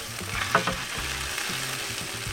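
Garlic cloves fry in olive oil for a chicken fettuccine, a dense, steady sizzle close by with a couple of soft stirring scrapes and taps beneath it.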